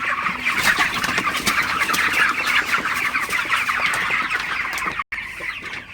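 A crowd of broiler chickens in a poultry farm clucks continuously, a loud, dense chorus of overlapping calls with a brief dropout near the end.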